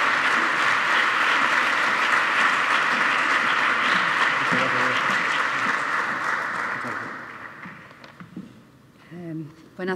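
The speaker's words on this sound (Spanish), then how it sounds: "Un fuerte aplauso, por favor, para doña Dolores Ferrecano" An audience at a university anniversary ceremony for the Erasmus programme in Granada applauds loudly and steadily for several seconds. The clapping then fades out, and a voice speaks near the end.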